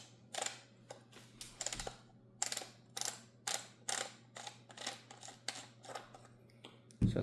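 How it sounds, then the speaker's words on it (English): End cap being unscrewed from a Winchester SX4 shotgun: a run of quiet, close ratcheting clicks in short regular bursts, each turn producing a crisp mechanical tick, with no talking. "you're going to want to unscrew this end cap here"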